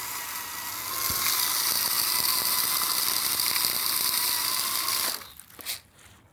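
A hand-cranked seed spreader throws grass seed, giving a steady whirring, ratcheting mechanical hiss for about five seconds before it stops and a few faint knocks follow.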